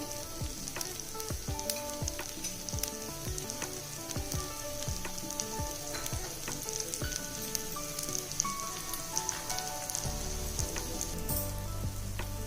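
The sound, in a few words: instant dosa sizzling while roasting on a pan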